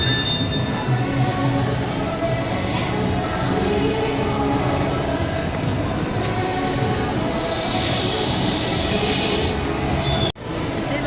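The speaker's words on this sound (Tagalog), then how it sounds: "Oh, there's a train" A train passes near a shopping mall, its steady rumble and wheel noise filling the scene continuously and loudly before cutting off abruptly near the end.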